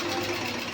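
A tailoring sewing machine stitching fabric gives a brief, steady, close mechanical whir that runs through the whole short moment.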